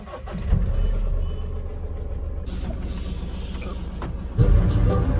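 A pickup truck driving along the road to a shop, its engine a steady low drone throughout that surges louder near the end.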